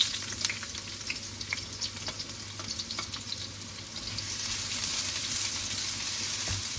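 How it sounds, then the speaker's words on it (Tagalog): Onion sautés in hot oil in a pan with a continuous close sizzle, scattered crackles and occasional stirring scrapes, the frying growing slightly louder and denser in the later seconds. "So, simulan na natin gisahin ang ating... So, una natin ilalagay ang ating onion."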